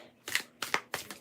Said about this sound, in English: I'm going to shuffle up here now where you can't see.